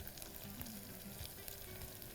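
Onions, green chillies, mint and coriander frying in oil, a soft, steady close-up sizzle with faint crackles and stirring throughout.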